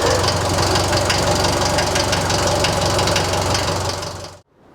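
Mercedes-Benz Unimog barn-find engine running steadily and loudly during a clutch test, a continuous knocking diesel rumble close to the mic that cuts off abruptly near the end.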